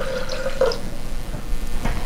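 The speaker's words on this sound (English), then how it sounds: "And let that drain into our decanter." Cold brew coffee draining from the brewer into a decanter, a continuous watery trickle with faint drips, steady and close, no voices present.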